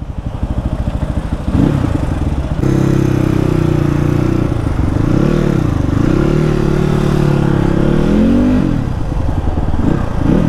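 A new dirt bike with a faulty accelerator runs close by, its engine ticking at idle and then surging into loud, uneven revs that rise and fall in repeated swells.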